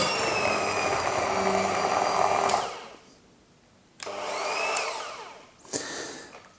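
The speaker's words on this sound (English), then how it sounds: "you could obviously do this by hand with a hand whisk, but if you've got the electric one, just makes your life easier" An electric whisk mixes brownie batter in loud, whirring bursts that start and stop, with a quiet pause between runs and a sharp change in pitch as the beaters shift.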